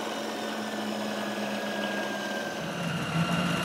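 A drill press motor runs steadily at about 1,000 RPM, giving a constant, even whine and hum that stays close and uninterrupted throughout.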